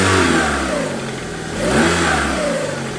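A car engine is revved hard on snap throttle, two sharp rises to high revs that fall back, loud and close with no talk, from a cheap used car that no longer misfires under load.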